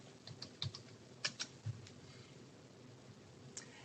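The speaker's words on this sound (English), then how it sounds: "I'm going to go ahead and type that in" Keys clack on a computer keyboard as a search term is entered, a quick cluster of soft, close taps in the first two seconds, then a lone keystroke near the end over a quiet room hum.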